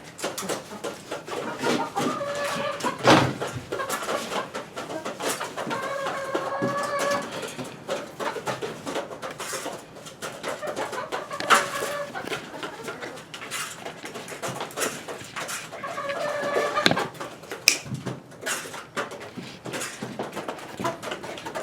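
Chickens clucking and cooing inside a small converted trailer coop, repeated soft calls close by over a busy rustling background, with no talk.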